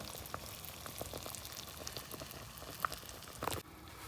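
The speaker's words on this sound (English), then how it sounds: "I'm gonna let this simmer for about 2-3 hours" Lamb shank simmering in a vegetable base broth, a steady soft bubbling and popping with scattered small pops, moderately quiet and close, no voices.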